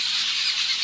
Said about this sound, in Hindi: ये देखिए चिड़िया बोल रही है सर।